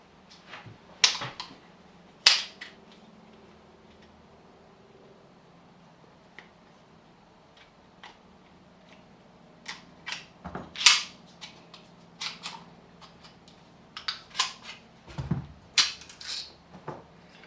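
A Springfield Armory Garrison pistol being taken apart: scattered sharp metallic clicks and snaps of parts coming loose, close and crisp, separated by quiet pauses, with busier clusters of clacks toward the end and no talking.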